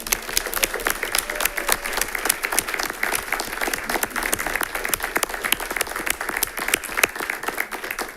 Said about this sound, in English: please join me in a round of applause and a special recognition to Ms. Cheryl Gleason.